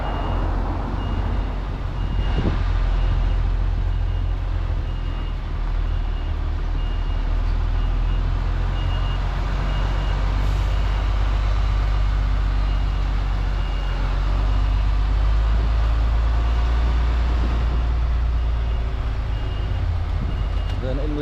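A delivery truck backs into an awkward yard, its loud idling engine rumbling steadily beneath a repeating reversing beep, with talking over it.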